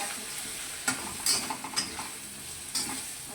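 A spice masala with chilli powder and salt is sautéed in a pan, giving a steady close sizzle broken by several sharp scraping stirs of a spoon against the metal.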